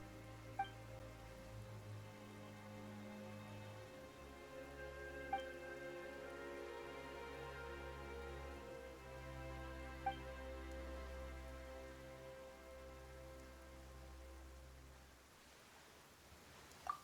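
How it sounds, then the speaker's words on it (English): Steady rain falls in a video game, a soft, even patter that runs throughout beneath sustained background music with occasional faint chimes. "Why is it raining all of a sudden?"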